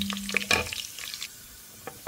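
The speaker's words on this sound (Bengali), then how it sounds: "রসুনটা একটু ভাজা হয়ে যাবে। তো দিয়ে দিলাম আমি পেঁয়াজ।" Chopped garlic and onion fry in hot oil for a Bengali dried shol fish and drumstick dish, with faint crackling sizzle and a few scrapes of stirring close by, with no talking.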